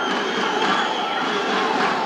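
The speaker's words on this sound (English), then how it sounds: "Crowd going wild" Rugby crowd at an under-19 Asian youth match between Chinese Taipei and Singapore, a steady loud wash of cheering and roaring voices that swells slightly and holds throughout.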